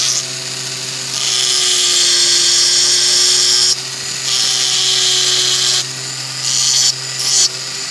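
A Dremel 3000 multi-tool on a flexible shaft grinds steadily while shaping a candle holder, its high electric whine rising and dropping as the bit presses on and lifts off the work, with no talking.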